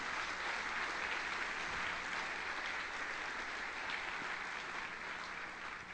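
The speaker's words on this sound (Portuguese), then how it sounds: "Você pode aplaudir o Senhor?" A church congregation applauds the Lord in continuous, even clapping that holds steady throughout, sounding moderately distant and fairly quiet.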